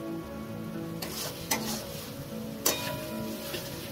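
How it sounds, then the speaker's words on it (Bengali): Boiled kabuli chickpeas for chana masala being stirred in a pan, a low gentle sizzle under a few distinct scraping clinks of a spoon against the metal, close and quiet. "এবার কাবলি ছোলাটা দিয়ে দিচ্ছি এখানে, দিয়ে ভালোভাবে মিশিয়ে নেব।"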